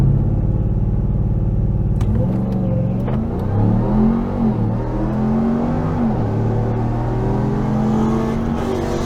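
A Ram TRX truck in sport mode launches at a night drag race, its idling rumble erupting after two seconds into a loud, rising engine roar with several gear changes as it accelerates away.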